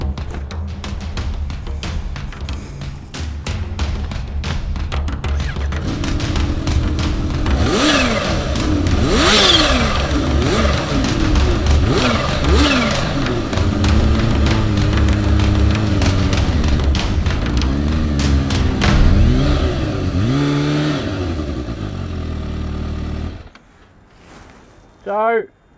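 A supercharged Kawasaki Ninja H2 motorcycle accelerates hard, its loud engine rising and falling through repeated revving sweeps for over twenty seconds before cutting off near the end.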